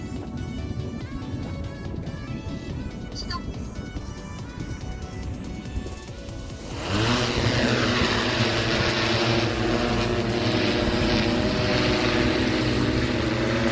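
An AUTO-10 automatic crop-spraying drone lifts off over a rice paddy, its loud propeller whine swelling suddenly partway through into a steady, close, droning buzz.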